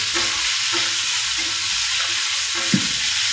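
Seasonings get stirred together in a bowl with a soft, rhythmic scraping repeated about once every half second against a steady background hiss, and one louder knock near the end.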